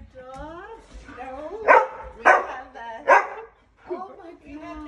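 A puppy gives three sharp broadband barks in the middle, with people talking excitedly around them and over them close by.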